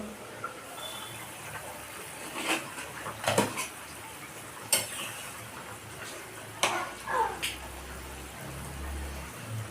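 A metal lid comes off a cooking pot of boiling potatoes with a few sharp clanks and clatters, spaced out over a steady low background.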